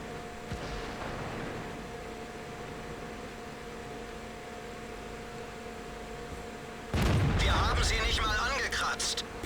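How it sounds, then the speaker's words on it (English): A tank cannon shot striking the side of a turret in World of Tanks, heard as a sudden loud blast with harsh crackling impact after a long steady low drone of engine and battle ambience. "able to get a shot through the side of the turret"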